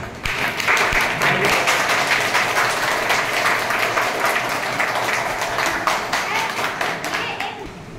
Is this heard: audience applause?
yes